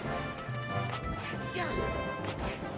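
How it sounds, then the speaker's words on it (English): A bomb block explodes in Super Smash Bros. Melee during a Marth versus Fox grand finals match, a single sharp crash under constant crowd and game noise. "Hits a bomb block, and there goes the stock from Tester."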